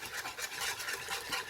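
Soft repeated scraping strokes of a whisk or spoon stirring white sauce for beef lasagne off the heat, a quick steady rhythm, close and quiet with no voices.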